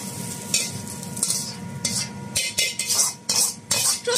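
Fried rice is tossed and stir-fried in a wok in a small restaurant kitchen, with a steady sizzle and repeated scraping clatter of the spatula against the metal in quick, uneven strokes.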